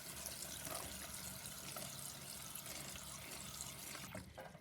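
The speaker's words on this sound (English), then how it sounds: "So I'm going to fill this with water." Water runs from a tap into a bowl for soaking shirataki noodles in a continuous gush, then cuts off near the end.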